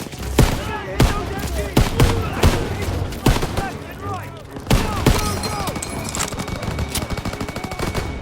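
Machine-gun fire from an MG nest in Call of Duty WWII's World War 2 Cobra operation, loud sustained bursts and scattered shots layered with voices shouting over the battle.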